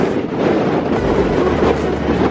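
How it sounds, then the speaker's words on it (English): Strong wind at the Cape of Good Hope batters the microphone in loud, low, rumbling gusts that swell and ease, with no talking. "Windy as hell out here."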